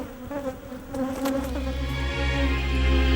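Bees buzz in a steady, droning hum that swells and grows louder over about three seconds, with no voices.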